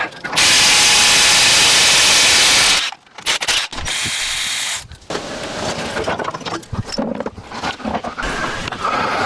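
Power tools and a ratchet work on the front end of a Chevrolet Colorado to remove the differential. A loud, close burst of air-tool whirring gives way to shorter mechanical clicks, clanks and bursts of tool noise.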